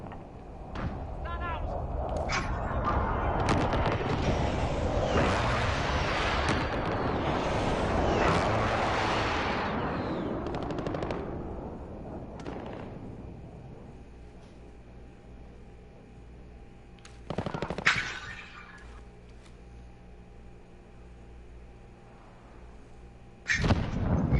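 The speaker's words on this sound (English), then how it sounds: "Friendly precision airstrike on the way." A precision airstrike lands in a PS4 shooter game: a long, heavy rumbling blast swells and fades, followed by a few sharp bangs and shots, with a voice speaking over parts of it.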